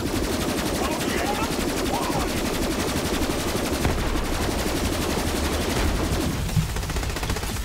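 Rapid Borderlands 3 gunfire rattles continuously during a final boss fight, dense automatic bursts with a busy, noisy backdrop and a short lull near the end.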